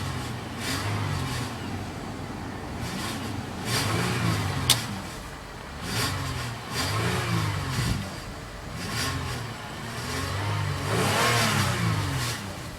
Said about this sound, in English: let's go see how she revs